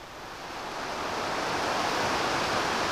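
A river pours into Loch Ard in the Scottish hills with a steady broad rushing wash, swelling slightly at first and then holding even and moderately loud, with no voices.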